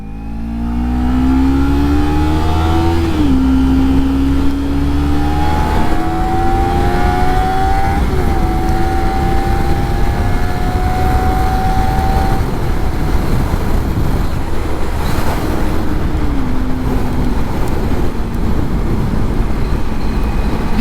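A Kawasaki Ninja 300 motorcycle accelerates hard on a highway, its engine note climbing through several gear changes with brief dips between rising revs, loud and close with steady wind roar underneath throughout.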